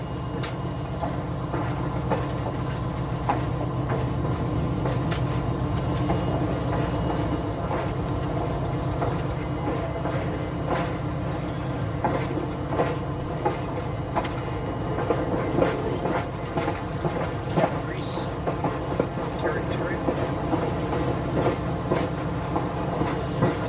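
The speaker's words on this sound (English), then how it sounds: "we pull over on the siding to let the freight train go by" A freight train rumbles past close by a passenger train stopped on a siding, with a steady heavy roar and rhythmic clacking of wheels over rail joints throughout.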